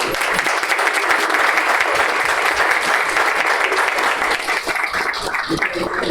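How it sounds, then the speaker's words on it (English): A room full of people at a healthier-communities leadership summit launch gives sustained, dense applause that continues steadily throughout, with little else audible. "Please give them a round of applause."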